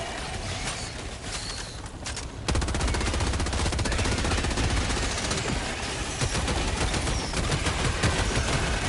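Sustained rapid automatic gunfire in the video game Helldivers 2, a loud, dense burst of shots that runs continuously until the magazine empties, close and dominant.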